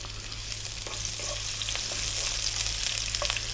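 Sliced onion fries in hot corn oil in a wok, giving a steady, close sizzling hiss with occasional soft stirring, and no talking.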